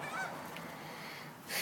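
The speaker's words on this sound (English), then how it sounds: "I don't really know what breed of bird they are." A flock of birds being fed goldfish crackers, not seagulls, calling with honking, goose-like cries, fairly close, over steady outdoor background noise, with a louder burst of calls at the end.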